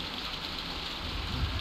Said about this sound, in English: We're sitting out in the rain like 10 years.